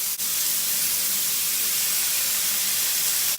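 Loud, constant hissing sizzle of chicken frying in a hot pan, steady and unbroken throughout.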